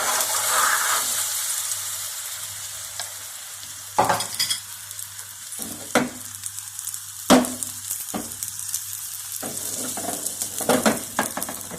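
Egg paratha frying in a pan, a steady close sizzle with occasional scrapes and stirring clinks from a utensil, no voices.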